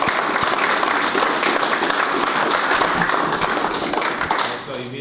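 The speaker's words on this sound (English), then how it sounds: "Let's clap for Julie." An audience at a college sports recruiting talk breaks into dense, sustained applause, with many hands clapping loudly and evenly before it begins to fade near the end.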